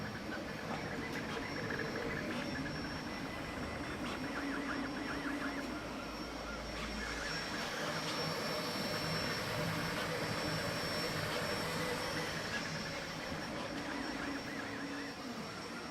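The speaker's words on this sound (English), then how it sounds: "So this is the printer as it is." A Creality K1C 3D printer runs with a VZBot printer going in the background, giving a steady, loud whirring fan hum with shifting stepper-motor whines and buzzing tones throughout.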